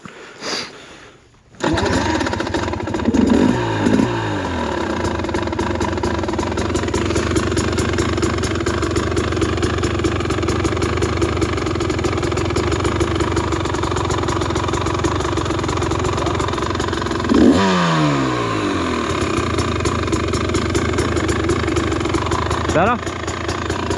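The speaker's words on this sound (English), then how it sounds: "I got mine idling fairly high." A new 2024 TE300 two-stroke dirt bike idles high and close after starting, a loud buzzing drone with a few brief blips, as people talk over it.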